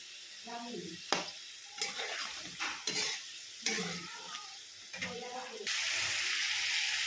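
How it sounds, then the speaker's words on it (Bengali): Boiled jackfruit is tipped into a hot pan and stirred, with repeated scraping strokes over a bright sizzle that rises into a loud, continuous frying hiss near the end. "কাঁঠালটাকে দিয়ে দিলাম, সেদ্ধ করা কাঁঠালটাকে এখন একটু ভেজে নেব।"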